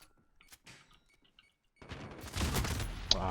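Gunfire in a first-person shooter video game, a loud burst of rapid shots breaking in after near silence broken only by a few faint clicks and thumps, continuing as a dense volley to the end.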